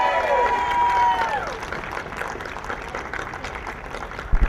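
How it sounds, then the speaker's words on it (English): Applause and cheering from an audience at a public event where a borough president protests proposed budget cuts, building as a voice fades out and continuing as a dense, steady patter of clapping. "Give yourself a strong round of applause for being here today."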